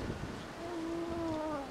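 Cold wind blows by the sea at Kabardinka, a soft rushing buffet against the microphone, with a brief high wavering tone rising through it.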